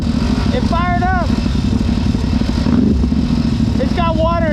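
A CFMOTO motorcycle engine fires up with water in its exhaust and settles into a steady, loud running rumble close by, while a person talks over it.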